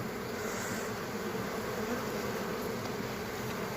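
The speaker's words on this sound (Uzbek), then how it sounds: "Pastki qavatida ham ari bor." A dense, steady hum of many honeybees buzzing close by around hive frames, continuous and even throughout with no voices.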